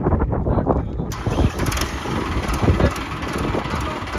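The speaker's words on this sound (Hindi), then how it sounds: "तो जी ये पहली बार ट्रैक्टर चला रहे हैं" A modified tractor engine runs steadily, a rough mid-pitched diesel rumble with uneven pulses; a high whine enters about a second in and holds, with no talking heard.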